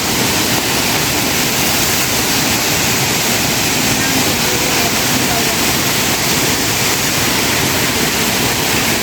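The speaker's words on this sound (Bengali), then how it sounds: "এটা হচ্ছে ঝর্ণা আর এইটা হচ্ছে মন্দির এই একদম সামনে চলে এলাম ফলসের কাছে" Waterfall in Keonjhar, Odisha, near a temple, roaring as a steady, loud, dense rush of falling water that fills the whole scene without a break.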